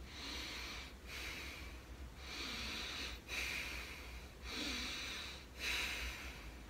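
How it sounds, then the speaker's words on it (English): Steady in-and-out nasal breathing during circular-breathing practice for recorder, with three or four long, airy breath cycles separated by brief pauses, close and soft with no talking. "Breathing in and out through your nose."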